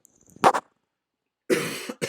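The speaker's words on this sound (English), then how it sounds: "Let me cough in your ear a little bit." A short cough burst close by, then silence, followed by a longer rough cough or throat clearing and a final brief cough.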